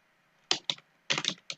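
Quick bursts of keystrokes clack on a computer keyboard, two short clusters separated by a pause, close and crisp.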